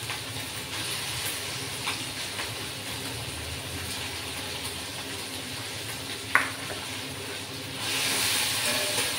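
Onions, ginger and tomato fry quietly in a pan, giving a soft, even sizzling hiss with occasional tiny crackles, and the hiss swells a little louder near the end.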